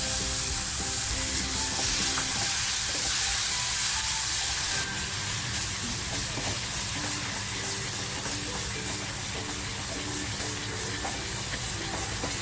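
Masala with grated tomato purée sizzles steadily in oil over a low flame for a black pepper chicken masala, a continuous close frying hiss with faint stirring scrapes and no voices.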